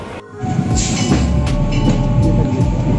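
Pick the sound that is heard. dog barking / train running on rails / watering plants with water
train running on rails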